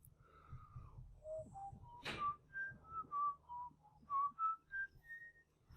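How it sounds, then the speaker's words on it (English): A person whistles a slow, wandering tune of separate short notes rising and falling in pitch, close and clear against a quiet room with faint low hum. "I'm going to whistle for a moment while you pause it to work on these"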